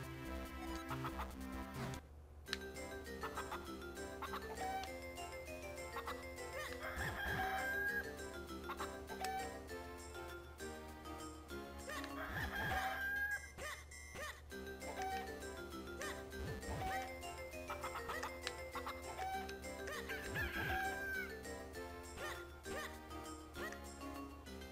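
Cucco chickens in a Zelda video game cluck repeatedly over steady game music, with short clucks recurring throughout at a moderate, even level.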